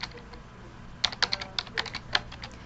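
Keys clatter on a computer keyboard in a short burst of quick, uneven clicks, close and crisp, following a brief quieter pause.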